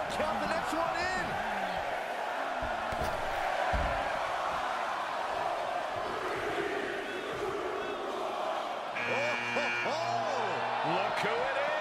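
A wrestling arena crowd in the WWE 2K23 video game roars continuously with cheers and chants, loud and dense, while a commentator's voice speaks over it.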